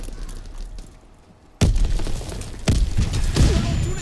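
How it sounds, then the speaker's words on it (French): A flash grenade detonates in Call of Duty WW2 multiplayer: after a quiet stretch, a sudden loud bang followed by ringing noise and two more sharp booms amid gameplay clatter. "Ah non, grenade flash."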